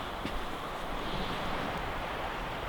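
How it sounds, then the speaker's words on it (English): Wind blowing outdoors, a loud steady rumbling roar buffeting the microphone for the whole short stretch, with no speech over it. "You hear that wind?"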